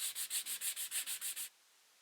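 Rapid back-and-forth sanding strokes on the edge of a wooden tiered tray, about ten even rhythmic scrapes, close and steady, then stopping abruptly into quiet.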